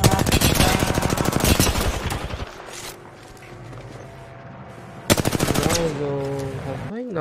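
Rapid automatic gunfire bursts in a video game, loud and dense at the start, then a lull with background hum before a second sharp burst, ending with voices talking over the fading game sounds.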